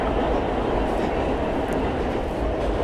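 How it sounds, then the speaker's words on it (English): A New York subway N train between Manhattan and Astoria, Queens, runs with a loud, steady roar and rumble, heard close from inside the car, with faint high squeals drifting over the constant din. "whereas these trains here, they'll run along 31st Street"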